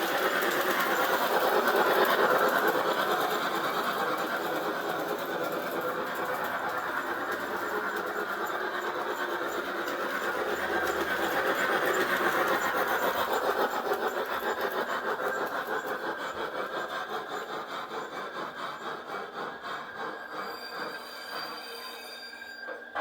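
Piko G scale DB BR50 model steam locomotive running, a steady mechanical hiss and rhythmic chuff that eases off toward the end with a brief brake sound, fairly faint and alone.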